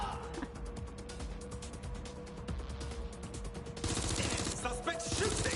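Rapid bursts of gunfire from the video game Watch Dogs Legion crackle over a steady background score, growing denser and louder toward the end.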